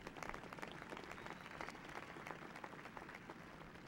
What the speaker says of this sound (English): Let's give one more strong round of applause to our graduates in the Cal State Fullerton Doctorate in Education program.